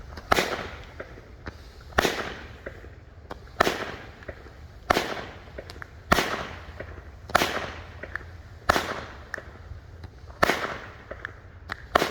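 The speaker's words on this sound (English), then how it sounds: "All right, this is Scatterbug Phantom Fireworks in the new mortar box." A Phantom Fireworks Scatter Bug 16-shot 200 gram firework cake fired from a mortar box, sharp crackling bursts repeating roughly every second, each with a fizzing tail, loud and near outdoors.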